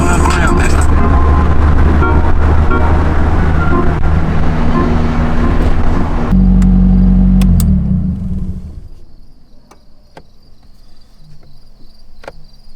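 A Nissan Z32 fitted with an SR20DET engine and Z32 transmission rumbles loudly while driving on the road, then winds down and fades to near quiet, leaving faint insect chirps.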